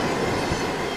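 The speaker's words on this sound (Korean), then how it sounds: "시속 300km로 달리는 KTX는 밤낮을 가리지 않고 엄청난 소음을 발산합니다" A KTX high-speed train running at about 300 km/h passes roughly 100 metres from apartment blocks, a loud, steady broadband roar of rushing wheels and air filling the whole second with no break.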